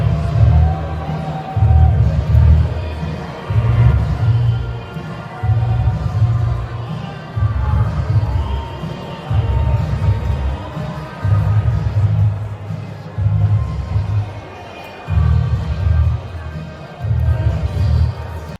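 A loud crowd at a Mark Carney campaign event roars in repeated rhythmic surges, like chanting or stomping, pulsing every couple of seconds with scattered voices throughout.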